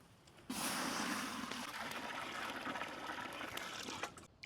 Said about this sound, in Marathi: आपण आता पातेल्यामध्ये पाणी टाकून घेऊ